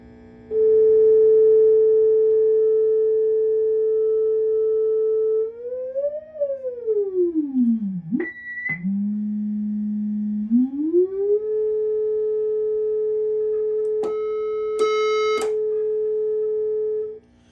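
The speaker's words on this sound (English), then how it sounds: "A 400 hertz signal." A steady 400 Hz test tone played through a JMJ AC30 valve amplifier, loud and pure, then sweeping down and back up in pitch, with brief higher beeps near the end.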